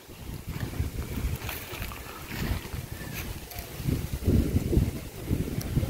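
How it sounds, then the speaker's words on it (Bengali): Wind gusting across open fields beside a dirt road in Narsingdi, a steady rough rumble buffeting the microphone, rising and falling in strength, close and fairly loud, with no talking. "কি বাতাস দেখেন, কি বাতাস, বাতাসের আওয়াজ"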